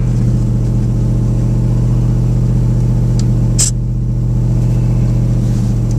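Idling engine of a 1986 Ford F150 truck after a cold start: a steady, loud low rumble held throughout with no change in rhythm, plus one brief faint click partway through.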